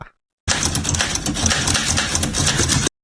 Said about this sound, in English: Who needs brushes when you have a typewriter?